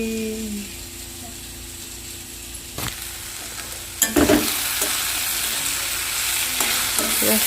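Ash gourd slices fry in a pan with a steady, bright sizzle, broken by a few sharp clacks of stirring, while voices murmur faintly in the background.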